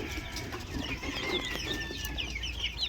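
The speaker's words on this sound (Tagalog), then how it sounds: "lalaking malusog itong mga manok na ito" Young asil crossed with McLean Hatch chickens cluck and cheep in a steady scatter of small calls close by on a farm, over a constant low background rumble.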